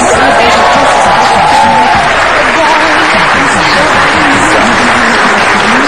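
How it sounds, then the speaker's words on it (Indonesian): Loud, dense studio audience applause mixed with cheering and whoops on a Mata Najwa talk show, welcoming a fisheries minister, continuous throughout. "tepuk tangan sekali lagi dong."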